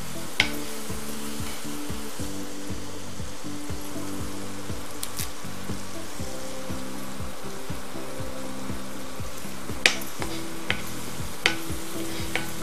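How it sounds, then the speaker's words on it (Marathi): Bay leaves dropped into a hot pan of oil and spices for kaju usal, a steady close sizzle and frying hiss with a few light stirring clicks, no voices. "तमालपत्र घालूया आपण."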